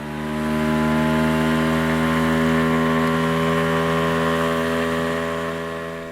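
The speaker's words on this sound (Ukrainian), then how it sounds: "Щоб не заважати друг другу, вони погнали на моторі." An outboard boat motor on a river runs at a steady, loud drone with strong harmonic hum, holding evenly throughout with no voices.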